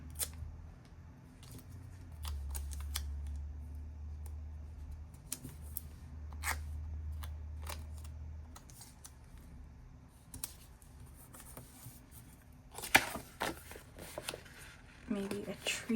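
Scissors snip through a sticker sheet in a few short, close cuts, with soft paper handling and rustling around them, while a person talks quietly throughout.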